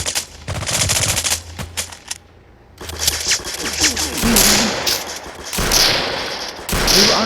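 Automatic gunfire in a shooter video game, repeated loud bursts of rapid shots separated by brief pauses, with a quieter gap in the middle.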